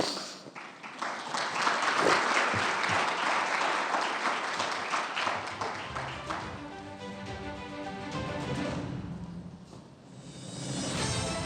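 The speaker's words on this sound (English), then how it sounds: "Elif, Murat, round of applause for our panelists" A conference audience applauds its panelists at a development forum in Istanbul, giving sustained, dense clapping that swells, thins briefly near the end and picks up again, with some voices mixed in.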